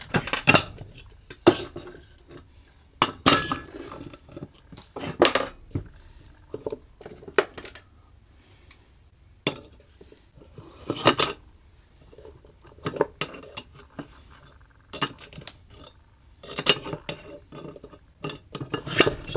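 A thin bearing being carefully tapped loose during a repair, heard as a series of sharp metallic knocks in irregular clusters with quiet gaps between, close and alone.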